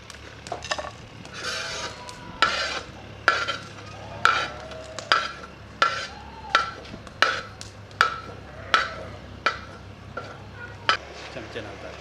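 Masala for beef nihari being stir-fried in a pot, with a spoon scraping through it in regular strokes about once a second over a soft, steady sizzle.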